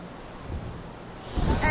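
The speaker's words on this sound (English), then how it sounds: "Yeah, it's a lot of ocean." Ocean surf along a Cancun shoreline makes a steady low wash with wind noise, and a wave breaks and swells louder near the end.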